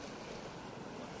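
Steady broadband rush of surf at a Pacific Ocean beach in the Philippines, with wind buffeting the microphone, continuous and moderately loud with no voices.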